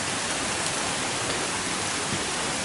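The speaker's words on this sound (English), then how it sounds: "Beautiful creek." A small creek beside a walkway along the Blue Ridge Parkway in Virginia gives a steady, even rush of flowing water with no break or other sound over it.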